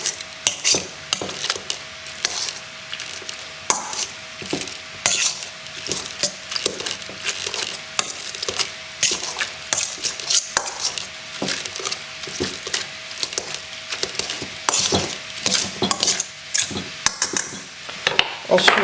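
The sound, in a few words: mashing cooked celery for purée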